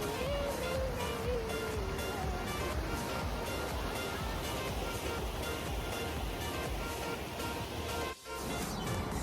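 Dudhsagar waterfall in Goa, a steady, loud broadband roar of rushing water filling the whole stretch without pause, with a brief dip near the end.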